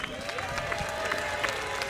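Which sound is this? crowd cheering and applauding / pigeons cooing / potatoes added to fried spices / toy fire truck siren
crowd cheering and applauding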